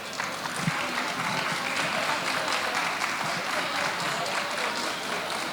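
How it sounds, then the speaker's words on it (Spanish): Audience applauding at a book fair, sustained crowd clapping filling a hall, moderately loud and even throughout with faint voices underneath. "Un aplauso."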